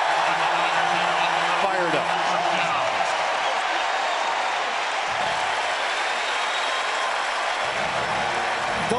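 A stadium crowd at the 2010 Auburn versus LSU college football game roars steadily, a dense and loud wash of cheering that holds for the whole stretch.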